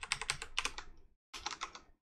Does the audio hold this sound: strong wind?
no